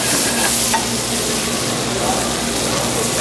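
Lobster cooking in butter in a hot pan gives off a steady, close sizzle with light stirring and scraping, with no pauses from start to finish.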